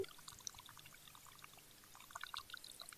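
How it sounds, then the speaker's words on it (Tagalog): Water is poured out while ornamental fish aquariums are cleaned, a faint, close trickling and splashing with bright, bubbly drips scattered through and slightly busier bursts near the start and end. "dalawa na silang bumubuhos. Nagtatapon ng tubig."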